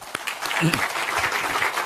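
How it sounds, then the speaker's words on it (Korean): Party lawmakers at a caucus meeting clap together, a steady patter of applause with a voice briefly rising over it partway through. "다시 한번 뜨거운 박수로 동의해 주시기 바랍니다"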